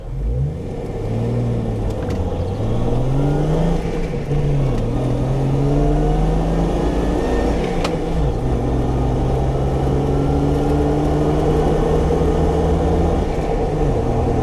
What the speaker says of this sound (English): So I'll do a bit of an acceleration test here.